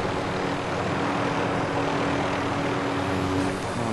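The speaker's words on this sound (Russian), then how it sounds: "Вертолет медпомощи." Medical helicopter flying in a video game: a steady, continuous engine and rotor drone at moderate distance, even in level throughout with a faint tonal hum, no one speaking.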